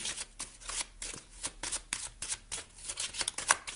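Tarot cards being shuffled up close, with quick repeated riffling bursts of papery flutter and soft slaps running steadily and no talk over them.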